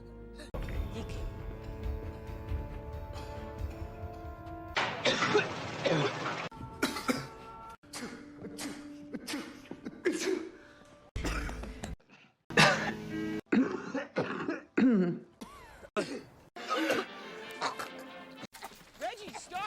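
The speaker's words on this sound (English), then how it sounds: "stop coughing!" A person coughs and clears their throat repeatedly in a dusty setting, harsh bursts mixed with speech and other movie-scene sounds, some fits loud and close, others brief and scattered.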